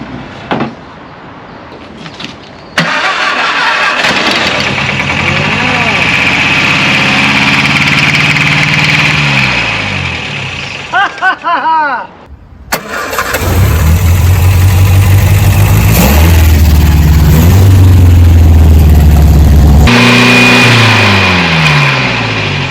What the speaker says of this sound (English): this is the first time this car has run in probably 30 years